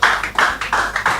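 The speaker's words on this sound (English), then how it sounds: "Please, a round of applause for him as he comes forward." An audience applauding a speaker as he comes forward, with a quick run of sharp, distinct hand claps close by, fairly sparse rather than a full crowd roar.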